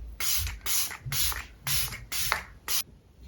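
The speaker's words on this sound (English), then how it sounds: "Let's do a final round of setting spray." Six short bursts of a spray mist hissing close by, each about a third of a second, separated by brief pauses.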